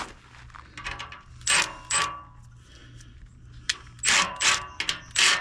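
A socket wrench ratchets on an exhaust bolt of an old Super Duty truck, with several bursts of quick clicking separated by short pauses, close and fairly loud.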